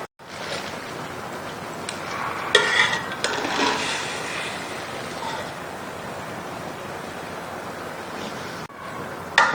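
Hot tikka biryani being spooned from a cooking pot into a serving dish after steaming, with soft scraping and clinking of utensils against metal over a steady background hiss.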